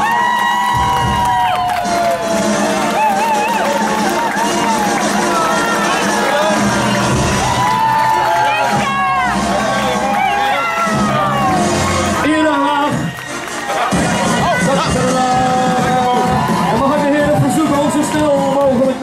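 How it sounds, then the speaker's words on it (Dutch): A festive crowd at the Glazen Huis charity event in Emmeloord, Noordoostpolder, cheers, whoops and shouts loudly for three DJs being freed, the roar running continuously under prominent tonal music and voices. "Maak een applaus voor onze drie helden van"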